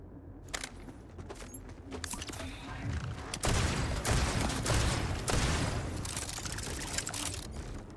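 A spread launcher firing in the Borderlands 4 shooter game, a burst of rapid blasts and splashy impacts building into a loud, sustained barrage.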